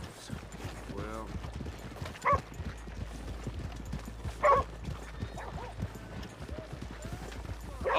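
Horse hooves clip-clopping at a walking pace in Red Dead Redemption 2, a soft steady rhythmic patter under background game ambience, with a couple of louder knocks and brief voices.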